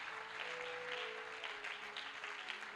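Congregation at a French-speaking church worship service clapping and acclaiming, a dense steady wash of applause with a sustained held tone underneath, fairly distant and even throughout.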